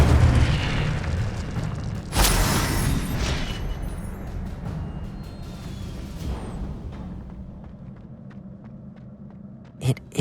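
An Incendio fire spell in Hogwarts Legacy erupts in a sudden loud whooshing blast that roars and slowly fades over several seconds, followed by quieter thuds and a short burst near the end.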